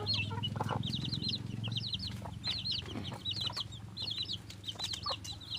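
Chicks and chickens at a poultry breeding setup cluck and cheep steadily throughout, with repeated high chirps over lower clucking, close and fairly loud.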